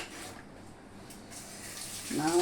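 Water runs from a tap, a soft steady stream that swells louder toward the end, with faint background noise and no voices.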